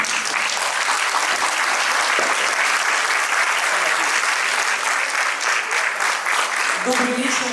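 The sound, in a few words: audience applause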